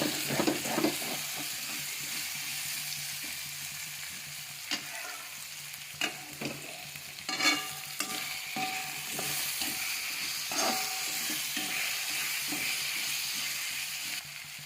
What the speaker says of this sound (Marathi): बटाटा घालून घेतलेला आहे, तरी त्याला चांगलं तळून घेणार आहे मी